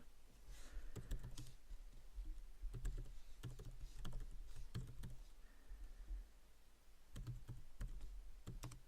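Typing code on a computer keyboard, a steady run of close, crisp key clicks in short irregular bursts with brief pauses between them, with no talking.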